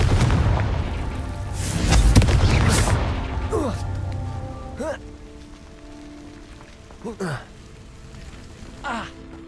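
Confringo fire spells in Hogwarts Legacy go off as a rumbling, crackling blast early on, followed by several shorter, sharper bursts that fade out, with a low hum beneath.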